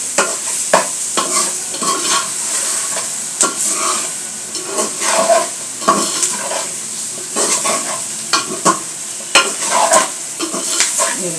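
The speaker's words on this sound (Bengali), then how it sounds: "ঢেলে একটু নেড়ে চেড়ে নেবো।" Spiny gourd (kakrol) pieces sizzle and hiss in hot oil in a pan while a utensil stirs and scrapes them in steady, repeated strokes, loud and close with no talking.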